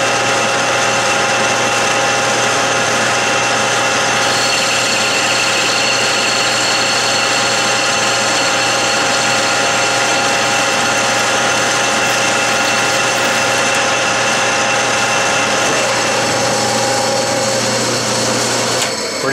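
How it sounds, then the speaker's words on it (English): A metal lathe parts off 7/8 inch aluminum bar at 800 RPM under power feed, giving a steady, loud machining whine with a constant motor hum throughout and no talk. "Lathe, 800 RPM, power feed, 7/8 aluminum."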